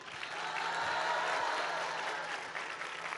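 A crowd at an outdoor public health event in Apetatitlán, Tlaxcala, applauds Mexico's president, Claudia Sheinbaum. The clapping is steady and somewhat distant, swelling slightly in the middle.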